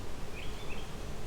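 Carniolan honey bees hum softly around an open hive during an inspection, a faint steady buzz with a brief higher whine of a bee passing near.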